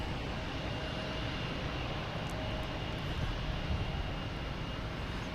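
A Cape Air aircraft at Boston Logan Airport gives off a steady, even engine roar that holds at a moderate level throughout, with no voices.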